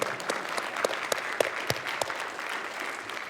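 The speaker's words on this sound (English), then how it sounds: "You can clap." A game developers conference audience claps briefly for a graphics demo, a thin, scattered patter with a few individual sharp claps standing out near the front.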